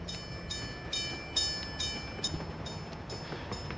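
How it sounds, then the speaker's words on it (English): Rail noise from a departing tram in the city-building game Workers and Resources: Soviet Republic, with rhythmic wheel clicks and clacks over a steady rolling hum, no voices. "Our first tram is leaving."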